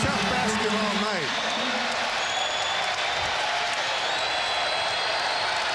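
Basketball arena crowd at a college game makes a broad, steady roar of noise on cue from the big board, with cheering and applause spread across the clip and a few whistle-like tones above it.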